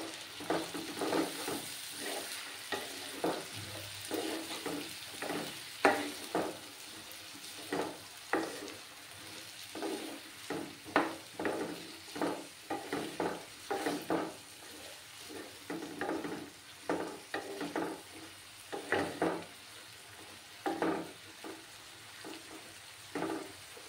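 Bengali-style fried rice sizzling in a pan while being stirred, with steady frying hiss and repeated scraping, clinking strokes of a utensil against the pan, close and continuous with no talk.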